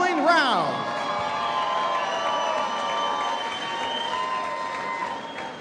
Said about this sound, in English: give these women warriors a big round of applause for going three grueling rounds